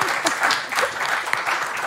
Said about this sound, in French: Applaudissements pour Vincent